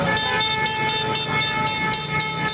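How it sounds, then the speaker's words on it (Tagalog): A car horn honks repeatedly on a busy Philippine street during an anti-corruption rally, with steady tones sounding close and loud over crowd and traffic noise for the whole stretch. "Busina! Busina! Busina! Busina! Busina! Busina!"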